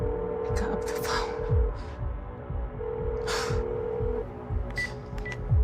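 Electronic beeps of a phone being dialed, several short tones in sequence over a low steady hum and background noise.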